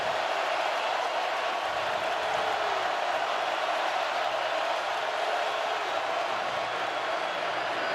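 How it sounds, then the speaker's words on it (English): Dense, roaring crowd noise from a packed college football stadium during Tennessee versus Texas A&M, a constant loud wash of voices with no breaks. "And the crowd will get louder"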